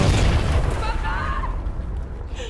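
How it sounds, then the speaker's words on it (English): A bomb goes off in the Far Cry 6 video game: a loud, deep booming blast with a rumbling tail that fades over about two seconds, with a voice heard briefly. "It's a bloody bomb."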